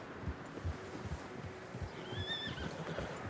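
Horses neigh and whinny in deep fresh snow in the Western video game Red Dead Redemption 2, a rising whinny standing out over steady muffled hoof thuds and low rumble in the game's winter landscape.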